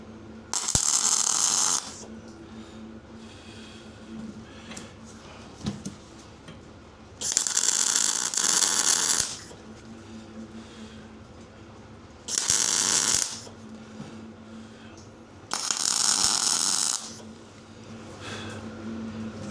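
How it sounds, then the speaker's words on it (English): Short bursts of MIG spot welding as hooks are tacked on under gas shielding, four loud crackling buzzes of about two seconds each separated by quieter pauses, with no talking. "It's a bit of a spot weld, just putting some hooks on here."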